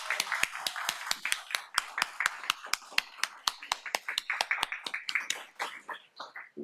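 A crowd applauds in steady, fairly loud clapping that continues throughout, with sharp individual claps standing out over a softer wash of hands.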